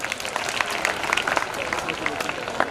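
Scattered claps from an audience at a school stage event, with sharp uneven hand strikes rising and falling over a murmur of voices.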